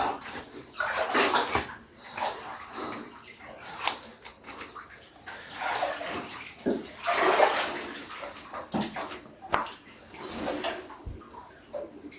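Water running at the third entrance of a Japanese-era cave passage, a gurgling, splashing flow that rises and falls in bursts, close by, with someone talking over it.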